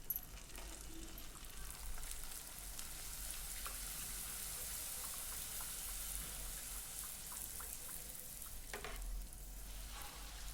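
A small test ball of poori dough dropped into hot oil sizzles and bubbles faintly and steadily, a soft continuous frying hiss with a few light crackles and no voices.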